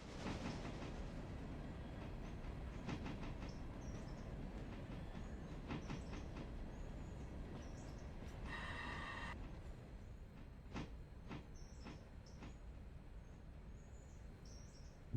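In the video game Railroader, a train rolls along quietly with a soft, continuous rumble and a scatter of rhythmic rail clicks, plus a brief chirp partway through.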